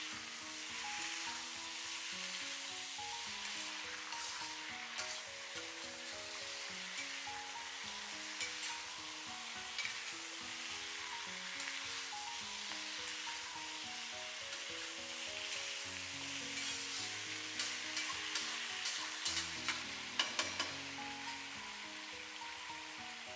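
White radish stir-fried in a wok with soy sauce and oyster sauce gives a steady sizzle, broken by frequent scrapes and clatters of the spatula as it is tossed. The sizzle swells briefly near the end. No one speaks.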